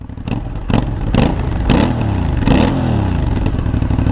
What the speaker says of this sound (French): Je surkiffe ces bruits de bicylindre